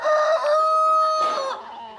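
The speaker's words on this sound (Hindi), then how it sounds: "ये मुर्गे देखो कितने शांत हैं, है ना? ये अपना घूम रहे हैं" Roosters and chickens on a farm, a clear rooster crow ringing out with clucking around it, close and fairly loud, with no talk.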